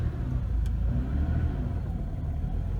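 A Porsche 911 engine hums in a soft, muffled, mellow drone, steady and continuous, heard from inside the car with no talking.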